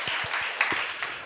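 A church congregation during a Korean Sunday worship service breaks into steady applause, a dense wash of many hands clapping at once with a few distinct claps standing out, fairly close and continuous throughout.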